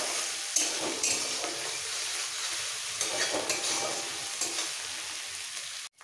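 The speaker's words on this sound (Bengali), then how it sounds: "বাটা পেঁয়াজটাকে একটু ভেজে নিতে হবে" Ground onion paste frying in a pan for a chicken and vegetable curry, a steady close sizzle with intermittent scraping stirs and light clinks, ending in an abrupt knock and brief silence.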